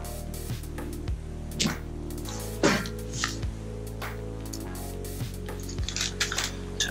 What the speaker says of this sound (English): And what you do is give it a tap